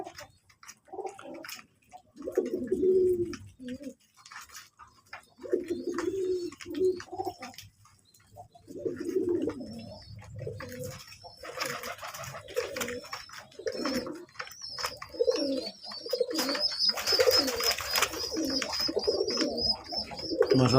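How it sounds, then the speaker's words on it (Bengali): Domestic pigeons at a pigeon farm coo steadily in repeated low, throaty phrases, with several birds overlapping close by and occasional light chirps and rustling in the background. "জালাল কবুতর তো উড়বে অনেক, ওগুলোর সাথে সাথে গ্রিজেল কবুতর উড়বে"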